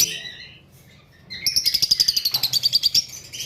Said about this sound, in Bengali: এই সামনে যে পাখিটা দেখেন ডাকাডাকি করতেছে, এটা মেল।